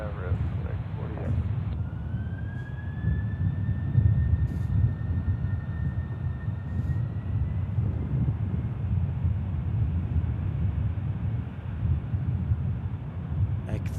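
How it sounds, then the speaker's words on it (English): A FedEx cargo plane from Campinas, Brazil takes off at Memphis International Airport, heard as a continuous low distant jet roar with a faint high whine running through it. "I think I hear the Campinas FedEx taking off"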